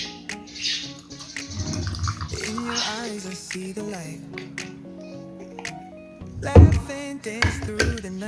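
Mineral water poured into homemade orange juice made from two oranges, brief splashing trickles heard between and under a person talking, with a few clattering knocks near the end.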